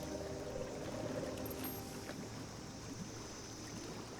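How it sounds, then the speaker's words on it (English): Murky swamp water in the Mire region of Fallout 76 bubbles and sloshes continuously, a dense low gurgling wash with no clear individual pops, moderately loud and steady throughout. "I hear bubbling and I don't like it."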